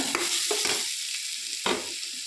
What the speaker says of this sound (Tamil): இஞ்சி பூண்டு அது நல்லா வதங்கணுங்க